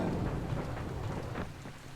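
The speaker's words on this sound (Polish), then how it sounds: "Pierwszy raz w tej grze widzę deszcz." Steady rain falls in the Dying Light video game, a dense continuous hiss with low rumbling underneath, moderately loud and unbroken for the whole stretch with no voices.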